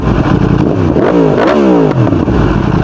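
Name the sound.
motorcycle revving with Akrapovic full exhaust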